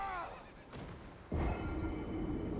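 A horse whinnies in the video game Elden Ring at the start, followed by a sudden burst of noisy game action and rumbling effects.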